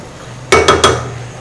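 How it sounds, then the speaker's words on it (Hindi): A spoon stirs a khichdi mixture of partly cooked lentils and whole spices in a metal pot, giving three distinct clinking scrapes close by, each followed by a short ringing tail. "इसको अच्छी तरह मिक्स करते हैं।"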